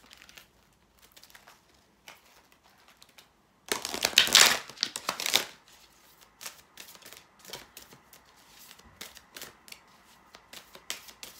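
A deck of tarot cards being cut and shuffled: a short flurry of crisp card riffling and slapping in a quiet room, with faint soft handling noises before and after.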